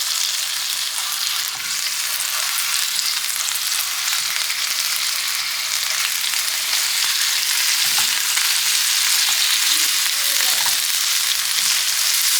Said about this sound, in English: we're gonna get this crumbled up in our pan.